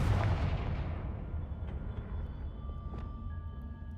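In the Hogwarts Legacy video game, a Confringo blasting spell lands with a deep booming explosion at the start that rolls and fades into a low rumbling tail, followed by faint distant thuds and a soft tonal chime.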